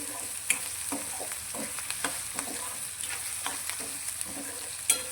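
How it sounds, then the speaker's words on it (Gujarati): Chopped onion sautéing in a pan for a hotel-style Punjabi vegetable curry, a steady close sizzle with the scrape and clack of a spoon stirring through it, no voices. "તો બે મિનિટ માટે આપણે આ રીતે ડુંગળીને સાંકળીશું"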